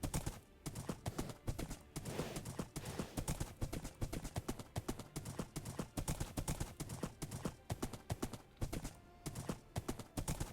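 Horse hooves clip-clop in a steady, rapid rhythm while riding in a video game, loud and close throughout, with no voices.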